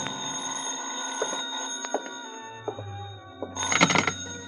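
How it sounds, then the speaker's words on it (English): A telephone rings in a radio mystery drama, a bright bell trill rising near the end after faint room sounds and a few soft knocks, with a low hum entering underneath. "I was about to go downstairs when the phone rang"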